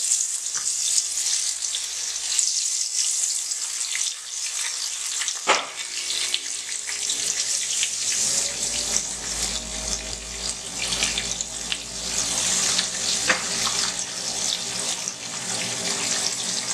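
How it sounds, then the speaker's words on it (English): Goat cheese tempura fritters sizzle and crackle steadily in hot oil, a bright hissing fry with occasional pops and a clatter up close. "And these just fry just about a minute."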